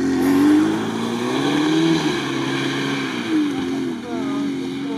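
A VAZ-2101 Kopeyka engine drones loudly and steadily off-road, its pitch wavering up and down as it revs, with people talking over it.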